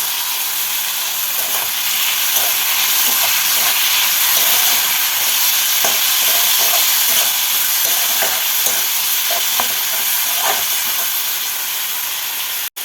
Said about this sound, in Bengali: আলুটাকে একটু নাড়াচাড়া করে হলদি পাউডার আর লবণটা দিয়ে দিলাম